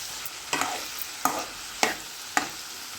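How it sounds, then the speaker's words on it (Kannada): Garlic, green chili and ginger paste fries in oil for a potato dish, a soft steady sizzle broken by four sharp scrapes of a spoon stirring the pan at regular intervals. "ಬೆಳ್ಳುಳ್ಳಿ, ಹಸಿಮೆಣ್ಸಿನ್ಕಾಯಿ, ಅದ್ರಕ್ಕೆಲ್ಲ ಚಲೋ ಹುರ್ಕೋಬೇಕು. ಅದು ಎಣ್ಣೆದಾಗ ಕೆಂಪಾಗೋದು."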